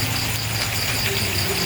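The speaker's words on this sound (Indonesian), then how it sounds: "Padahal hujan ini." Steady rain pattering at a construction site in a Sundanese village at night, a continuous even wash of drops with faint rattling, no talk over it.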